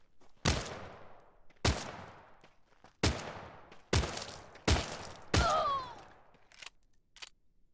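Shots in the survival game The Front, six loud, separate blasts spaced about a second apart, each with a short decaying tail, then a softer final pop.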